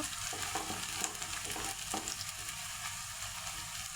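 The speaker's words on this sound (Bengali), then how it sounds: "এখন পেঁয়াজ কুচি নেড়ে চেড়ে একটু চপ করে ভেজে নেব" Chopped onions fry in soybean oil for a broiler chicken dish, giving a steady close sizzle broken by light scraping as they are stirred around the pan.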